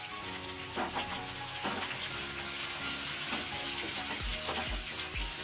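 Onion pieces frying in oil in a pan with a tempering of chana dal, urad dal, cumin, mustard seeds, dried red chilies and curry leaves, making a steady soft crackling sizzle with occasional stirring scrapes.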